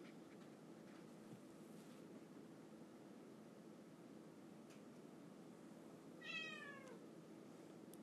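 A single indoor house cat gives one clear meow near the end, fairly close, over a quiet steady background hiss.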